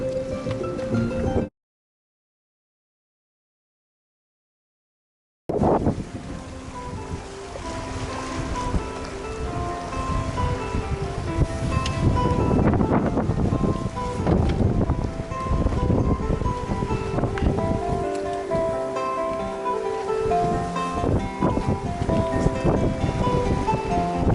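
Olsen 38 sailboat cruising under sail along the New South Wales coast at about five knots, with a steady rush of wind and water splashing against the hull, close and continuous after a short silent gap near the start.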